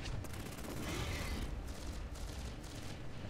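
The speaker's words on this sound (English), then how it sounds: "Whee! Explosions everywhere!" Explosions and gunfire in the war game World War Machine, a continuous rumbling barrage of booms and rapid shots layered over one another, loud and dense throughout.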